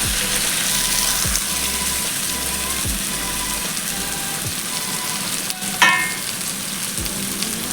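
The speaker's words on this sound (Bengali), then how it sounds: "আমি এবার এঁচোড়টা দিয়ে দেবো এর মধ্যে" Young jackfruit hisses and sizzles steadily in a hot pan of oil, with a few soft scraping stirs and one brief clatter near the end and no talking.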